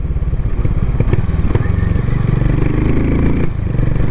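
A Harley-Davidson X440 motorcycle engine thumps in a steady, loud low-pitched beat as the bike is ridden, with a brief speaking voice underneath.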